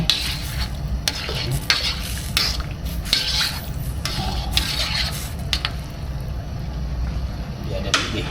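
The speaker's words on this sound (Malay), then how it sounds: "Biar dia mendidih." Beef tripe bubbles and sizzles in its own fat in a pot, a steady close crackle broken by repeated sharp clinks and scrapes of a utensil stirring against the metal.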